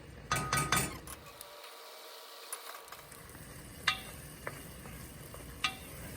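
A spoon stirs risotto with edamame in a pan, giving a few scraping clicks early on, then quieter scattered taps over a faint simmering hiss, close and soft.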